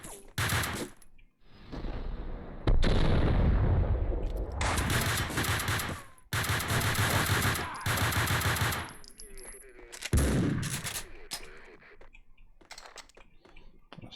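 Gunfire in Max Payne 2 erupts in loud bursts of rapid automatic shots with separate single cracks, broken by short pauses over about fourteen seconds.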